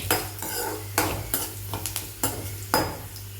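Curry leaves and garlic sautéed in oil in a pan for pickle, with a steady sizzle broken by several sharp scraping stirs of a utensil against the pan, close and clear, no voices.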